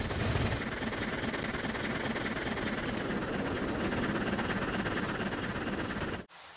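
A train in the Trainz railway simulator rumbles steadily as broadband noise for several seconds, loud and constant, before cutting off abruptly near the end.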